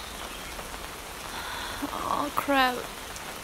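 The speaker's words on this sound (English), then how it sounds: "I guess I'm stuck here until this rain's over." Steady rain falls on a surface throughout, a soft continuous patter under a voice that speaks briefly near the end, with a short rising whistling or creaking sound just after it.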